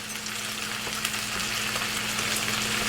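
Sliced cucumbers sautéing in a hot pan, a continuous dense frying sizzle with a low steady hum beneath and an occasional faint clink as they are tossed.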